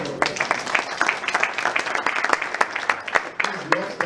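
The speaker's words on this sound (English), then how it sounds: "Round of applause." An audience at an architecture festival event in Lagos breaks into applause, a brisk patter of claps from a modest crowd, uneven and lively for about four seconds.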